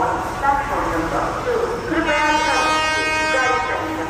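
A train rumbles into an Ayodhya station with a long, tonal horn rising over a busy platform, while people talk in the background.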